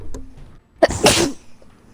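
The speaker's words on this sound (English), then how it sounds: "Did you sneeze right in your microphone?" A single loud sneeze straight into a close microphone during an online gaming session, a short sharp burst after a quiet intake, with faint background hum and no talk.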